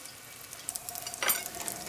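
Pizza fritta dough dropped into hot oil sizzles faintly, with a brief louder crackling burst partway through the short stretch.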